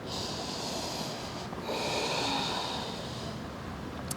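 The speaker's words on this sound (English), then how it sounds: "One more breath" A slow, deep breath drawn and released through the nose during a beginners' morning yoga class: a long, breathy rush, close and steady, with a slight swell in the middle.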